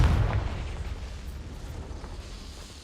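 Confringo, a blasting spell in Hogwarts Legacy, goes off as a single booming explosion right at the start, its rumble fading away over the next couple of seconds.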